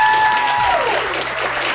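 Brief burst of crowd applause at a live Fringe Festival tabletop game show, steady dense clapping from an audience filling the room, with a faint voice underneath.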